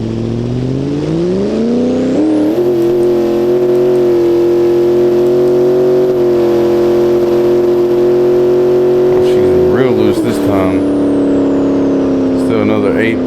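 A Dodge Dakota R/T engine held on the trans brake revs loud and steady, climbing quickly then holding a sustained high drone for several seconds before dropping off near the end.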